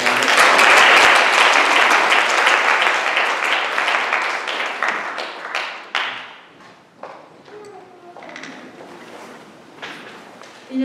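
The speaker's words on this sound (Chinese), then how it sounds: "我们热烈的掌声欢迎。" Warm, loud applause from a church congregation fills the hall to greet a visiting woman preacher, holding strong at first and then thinning into scattered claps and a few thumps as it dies away.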